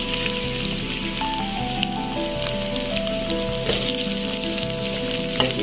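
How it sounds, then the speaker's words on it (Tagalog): Onion sautéing in a pan with ladyfingers, a steady close crackling sizzle with scattered pops and faint utensil touches, no talk. "I-brownish lang natin itong dalawang main ingredients."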